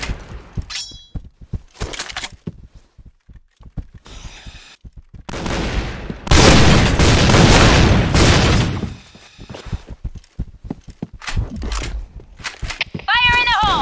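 Explosions from thrown bombs in a zombie shooter game burst in a loud, sustained roar mid-clip, surrounded by sharp gunfire cracks and clattering impacts.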